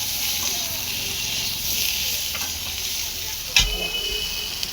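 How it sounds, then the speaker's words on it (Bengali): Ground spices such as chilli powder being stirred together in a hot pan, a steady close sizzle and frying hiss with scraping stirs and one sharp knock near the end. "ভালো করে এটা মশলাটাকে একসাথে মিক্স করে নেব।"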